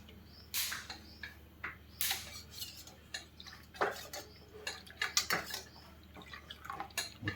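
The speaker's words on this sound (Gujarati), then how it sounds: "હવે થોડું એને હલાવી દઈશું." Soup made with drumsticks and a little lemon is stirred in a metal pot, giving irregular clinks and scrapes of a spoon against the pot with faint liquid sloshing, close and fairly quiet, with no talking.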